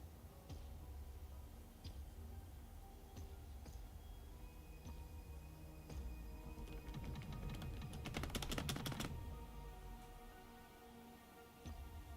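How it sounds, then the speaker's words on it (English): Computer keyboard arrow keys pressed in scattered taps, quickening into a dense burst of rapid clicks toward the end, close and clear with no talk. "Oh, I do need to push the arrow keys."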